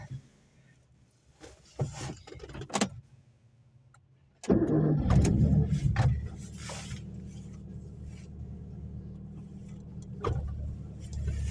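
A car starts up and idles steadily after some handling noises and door clunks, with the engine hum continuing under a few faint knocks on the way home.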